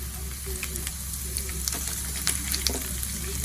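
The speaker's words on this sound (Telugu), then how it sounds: "ఎండుమిర్చి కాస్త కలర్ మారే వరకు వేయించుకోవాలి" Dried red chillies frying in oil for a Rayalaseema-style raw mango dal, a soft, steady sizzle with light crackles and a few clinks over a low background hum.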